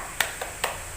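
Three quick, sharp hand claps ring out close and distinct in a steady rhythm, a short classroom spirit clap against faint room hiss.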